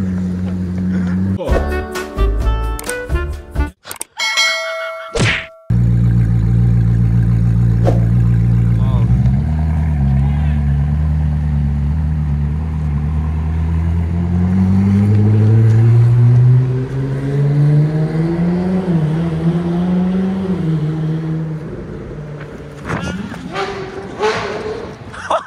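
A Koenigsegg sports car engine revs hard on a street in Zurich, a loud, close roar with pitch sweeping up and down, and people talk and shout over it.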